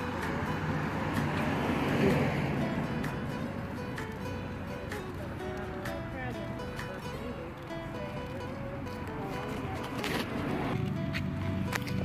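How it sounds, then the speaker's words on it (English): Steady traffic noise from cars passing on a busy street, a continuous roar of road vehicles that holds fairly constant for the full length with a slight swell near the start. "if you hear cars going by, that's what's going on."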